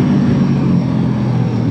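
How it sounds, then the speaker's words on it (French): A 2019 Honda CB500F motorcycle engine pulls hard in second gear, climbing from about 6000 toward 8000 rpm, a loud, close, sustained drone with a steady tone and no speech. "On est à 6000 tours, 7000 tours, 8000 tours"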